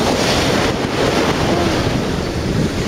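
Sea waves breaking at a beach under strong wind, a loud, continuous roar of surf and buffeting gusts close to the microphone, with no voices heard.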